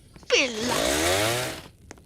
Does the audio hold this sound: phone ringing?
no